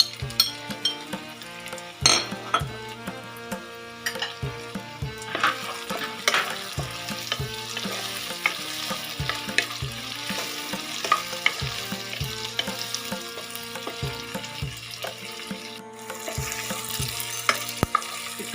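Chopped capsicum and green chilli fry in a pan, a steady sizzle with repeated scraping and tapping of a spatula against the metal as the vegetables are stirred, close and alone.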